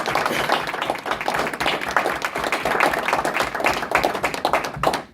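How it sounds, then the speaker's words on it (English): An audience applauds for Jimmy Franks at a WWCA Hall of Fame induction, with dense, sustained clapping from a crowd in a hall that holds steady throughout and fades slightly at the end. "How about a round of applause, ladies and gentlemen,"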